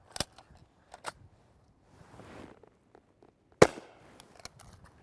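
A suppressed FN 5.7 Mark II pistol fires 62-grain Fiocchi 5.7x28mm FMJ rounds at a range, giving a few sharp, muffled cracks at irregular intervals, with fainter clicks and handling noise between the shots.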